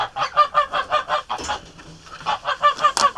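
A goose honks in alarm, a rapid run of loud nasal honks close by, pausing briefly midway before another burst of repeated calls.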